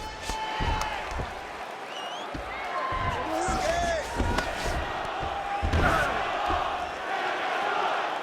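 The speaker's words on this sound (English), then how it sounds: "big pop from the crowd as they get back to their feet" Arena crowd at a UFC fight roars and cheers as the fighters get back to their feet after heavy ground and pound, a sustained noisy wash with sharp slams and shouts over a commentator's voice.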